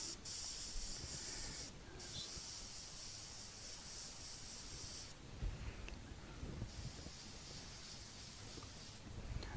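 A Harbor Freight airbrush sprays iridescent paint in bursts of steady airy hissing, close and moderate, with brief pauses between passes and no talking.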